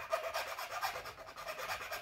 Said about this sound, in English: just file all those little places down